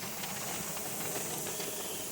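Steam hisses steadily from the vent of a pressure canner processing chicken, a close, even, continuous rush with no pauses.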